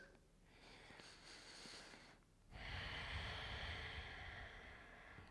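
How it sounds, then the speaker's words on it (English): Deep abdominal breathing during a yoga class, a slow inhale drawn through the nose, a short pause, then a fuller, louder exhale, close to the microphone with no talking. "Deep abdominal breathing."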